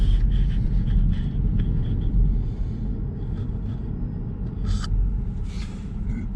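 Electric car driving off after unplugging from a charger: a steady low road rumble and tyre noise inside the cabin, a few faint clicks and rustles over it, no speech.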